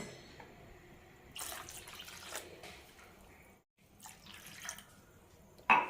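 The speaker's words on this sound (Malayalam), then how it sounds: "ഇതിലേക്ക് കുറച്ചുകൂടി വെള്ളം ഒഴിച്ച് നന്നായി ലൂസാക്കാം" Water splashes into mashed, pressure-cooked moong dal for sambar in two short, quiet pours separated by a pause, with a faint clink at the close.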